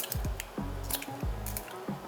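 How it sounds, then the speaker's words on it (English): Eggs being cracked into a bowl in a kitchen, several sharp shell taps and wet squishy drops spaced about half a second apart, close and fairly quiet. "we're gonna crack eggs into a bowl"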